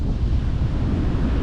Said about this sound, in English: Excuse the wind, it's windy.